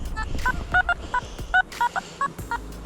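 A Simplex metal detector at maximum sensitivity beeping over junk signals near an old abandoned house, a rapid series of short electronic tones of varying pitch in an irregular rhythm, close and fairly loud.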